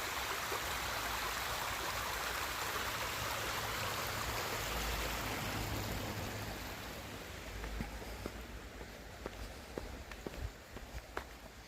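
A stream by Lake Thun, Switzerland runs in a continuous broadband rush that gradually thins and fades, while footsteps crunch closer over the last few seconds; nobody speaks.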